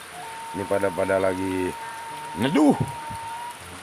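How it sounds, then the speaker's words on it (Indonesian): Heavy, steady rain falls in the background throughout, a continuous wash of sound beneath someone talking briefly in Indonesian and Sundanese. "Ini hujannya tuh masih kerap teman-teman, masih besar hujannya."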